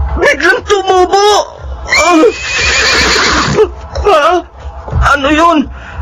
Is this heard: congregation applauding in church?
no